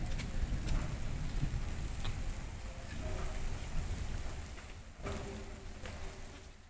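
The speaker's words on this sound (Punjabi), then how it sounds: "ਆ ਗਿਆ ਜੀ ਮੀਂਹ, ਆ ਤੁਸੀਂ ਭਿੱਜ ਜਾਓ," Steady rain pours down on a farmyard on a cool morning, a dense continuous hiss of drops on surfaces that stays fairly loud and even throughout, with no voices.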